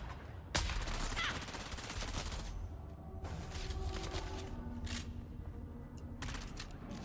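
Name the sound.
SMG gunfire in the video game Dune: Awakening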